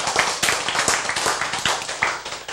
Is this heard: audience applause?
yes